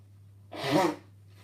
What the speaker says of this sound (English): I'm blowing my nose now